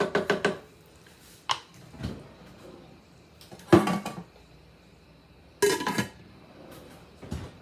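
Frozen peas tipped into a pot of pasta in a home kitchen, giving a few loud clattering bursts of hard pellets striking metal at the start, then sparser rattles and knocks, close and clear with no talking.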